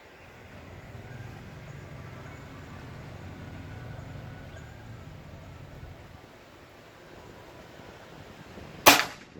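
After a long stretch of quiet, steady background hum, a single sharp shot from a PCP air rifle cracks out loudly near the end.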